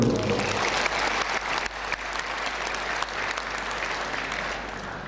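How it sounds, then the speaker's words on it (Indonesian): Full, loud applause fills a hotel ballroom at a college graduation ceremony, a dense steady roar of many hands clapping that stays strong for several seconds. "Tepuk tangan dulu untuk"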